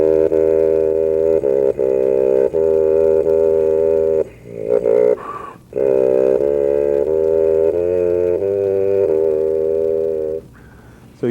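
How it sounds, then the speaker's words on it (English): Lip buzzing by a tuba player with no horn attached, tracing melodies in sustained, reedy tones at close range, broken into several held notes with short pauses and pitch bends between them. "and you can buzz all sorts of things."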